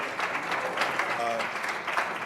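Applause from an audience at a portrait dedication and observance honoring Coleman A. Young, a steady wash of many hands clapping throughout, with voices mixed in.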